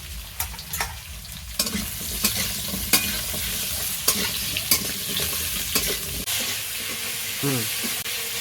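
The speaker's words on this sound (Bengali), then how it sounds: "এবার এই তেলের মধ্যে আমি এই শাকের আলুগুলো আমি ভেজে নেব" Potato pieces fry in hot fish oil with a constant dense sizzle, punctuated by regular sharp spatula clacks against the pan, close and steady, ending with a brief low scrape.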